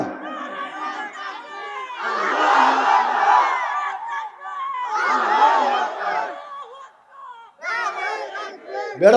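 A large crowd at a sermon shouts takbir, Allahu Akbar, in long swelling waves of massed voices, loud and reverberant, separated by short pauses, with a fresh burst of shouting starting near the end.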